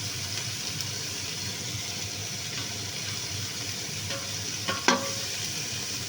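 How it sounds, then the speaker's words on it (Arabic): Onions frying in oil in a pot, a steady close sizzle running throughout, with a couple of brief scraping stirs near the end. "نخلي دهن ونحمس حمسة بسيطة"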